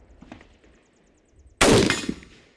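A Beretta ARX100 rifle in a video game fires one sharp, loud shot after a quiet stretch. The blast rings out into a decaying tail.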